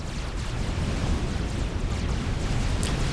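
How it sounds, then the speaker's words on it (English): Explosion from a destroyed torpedo launcher in Supreme Commander: Forged Alliance, a sustained rumbling roar of crackling blast noise that holds steady and loud for a few seconds with no talk. "Torpedo launcher goes down."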